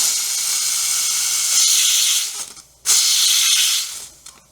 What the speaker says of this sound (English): I want to do a steam test now, because this one is the 2-hole steam tip.